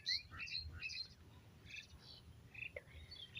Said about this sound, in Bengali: আর পাখিগুলো সব বাড়ি চলে যাচ্ছে এখন সন্ধে হয়ে যাচ্ছে